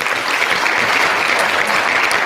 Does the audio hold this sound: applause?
yes